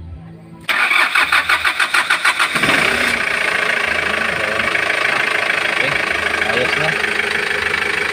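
A Hyundai Porter 2 diesel truck engine (D4CB) cranks with rapid chugging, catches, and settles into a steady loud idle; a voice speaks briefly near the start.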